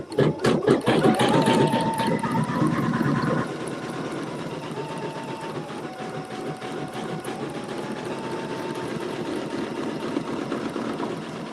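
A sewing machine runs a zigzag stitch to tack down wool, a rapid, loud mechanical chatter at first that drops to a steadier, softer whirring hum with a faint tone for the rest.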